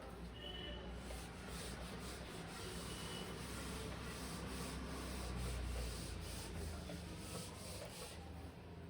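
Chalk or marker writing being rubbed off a classroom board, a steady dry scrubbing friction lasting throughout, fairly close, with no talk over it.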